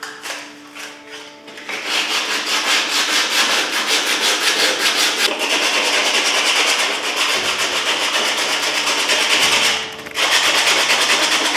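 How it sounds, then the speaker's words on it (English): Sandpaper rubs over the leather of a pair of Doc Martens boots in steady, rapid back-and-forth strokes. The scraping is close and loud, continuing almost without pause, with brief breaks near the start and near the end. "sandpaper."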